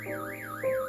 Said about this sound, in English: I take them out to turn off my car alarm